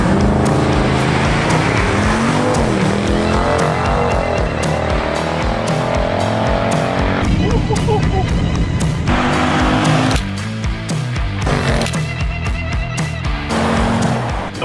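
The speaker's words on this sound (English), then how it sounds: "stock 2020 Ford Explorer ST, the blue one, versus a fully stock 2020 Dodge Durango SRT." A stock 2020 Ford Explorer ST and a stock 2020 Dodge Durango SRT with a big V8 drag race, engines roaring hard under full throttle with rising revs, gear changes and a brief tire squeal, loud and close throughout.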